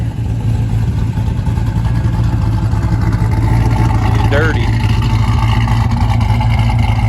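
A 1999 Pontiac Firebird with a swapped-in LS V8, long unused, runs steadily outside with a deep, loud, continuous rumble, while a person briefly speaks over it.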